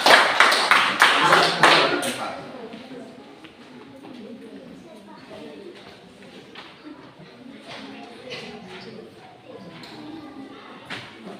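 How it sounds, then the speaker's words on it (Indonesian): A classroom bursts into a short round of hand clapping, dense and fairly loud for about two seconds, then settles into quieter room noise with a teacher speaking. "Oke, tepuk tangan sekali lagi."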